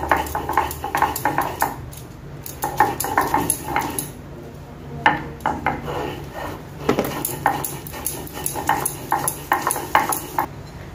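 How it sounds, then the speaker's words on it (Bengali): Dried chili, salt and mustard paste being mixed together in a dish for a Bengali thankuni leaf bharta, giving repeated clinking, scraping strokes of utensil against the dish in an uneven rhythm. "तो प्रथमत आमी एगुलोके भालो करे मिशिए नेब, मरिच लवण और सरिषा बाटा।"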